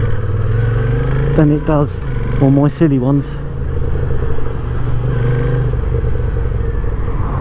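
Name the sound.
Moto Guzzi V7 motorcycle engine running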